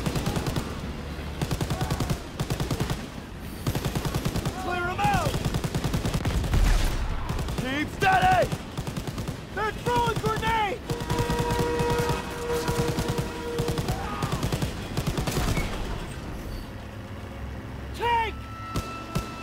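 Gunfire in the Call of Duty: WWII video game, sustained bursts of rapid shots and machine-gun fire mixed with vehicle engine noise, continuous and loud with character voices talking over it.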